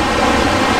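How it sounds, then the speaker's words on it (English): Ocean surf on a beach at Panama City Beach, Florida, makes a steady, dense broadband roar with no breaks, loud and close as if heard through a wind-muffled microphone. "We can still hear the waves"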